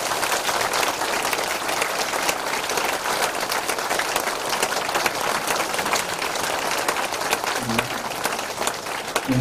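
Congregation applause at a Korean church founding and senior pastor installation service, dense and continuous clapping held at an even, loud level throughout.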